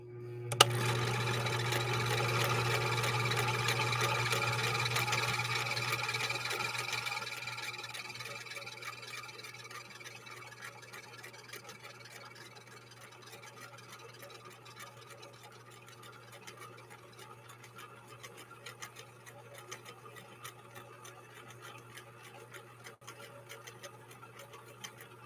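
A 1963 Husqvarna Viking 19E sewing machine stitches with a Schmetz double eye needle, a steady mechanical run with a low hum that is loud for about seven seconds, then continues more quietly with faint ticking.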